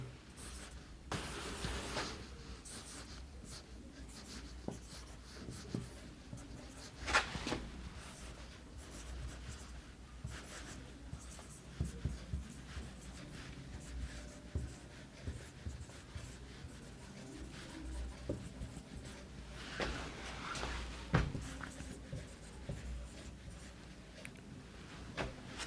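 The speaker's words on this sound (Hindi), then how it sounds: "तो लिखते हैं यहाँ पे यूनिक्स का पूरा नाम" Chalk or marker scratching across a board during a computer lesson, an uneven run of soft strokes and taps, fairly quiet and steady, with no talking.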